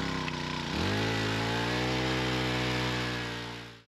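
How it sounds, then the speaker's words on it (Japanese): A small engine on a water transfer pump catches after a pull of the recoil starter, then settles into a loud, steady, buzzing idle that runs close up and alone until it is suddenly cut off. "リコイルスターターを引いてエンジンをかけます。"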